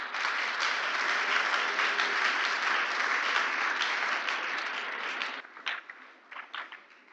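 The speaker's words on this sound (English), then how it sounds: "I know you've applauded Andrew" A school audience in Ghana applauds Andrew at a children's gardening and small animal rearing competition. The clapping is dense and sustained at full strength, then it breaks off into a few scattered claps that fade out.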